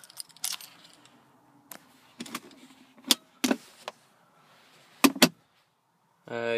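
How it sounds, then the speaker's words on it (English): Keys for a Mitsubishi Shogun jangle in several short metallic bursts inside the car, with quiet gaps between them and a brief electric whir near the end. "Vehicle has two keys."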